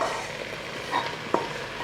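Chicken cooked with roasted coconut sizzles steadily in a pan while being stirred, with a soft scrape and a small clack of the spoon in the middle.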